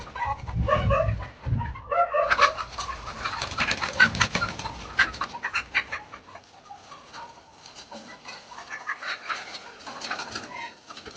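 Chickens on a small poultry farm cluck and chatter nearby in irregular bursts, with some louder calls early on, settling into quieter scattered clucking.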